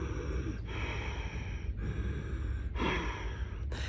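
Ujjayi ocean breathing drawn through the nose in a throaty Darth Vader style, heard as three or four long, hissing breath cycles, each ending in a brief swell, close and steady with no talk.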